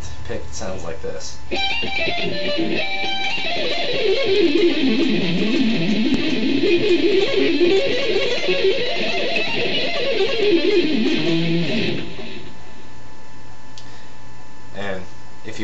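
Seven-string guitar shred lick played with fast picking, a rapid stream of notes sweeping down and back up in pitch for about ten seconds, close and clear, with no talk over it.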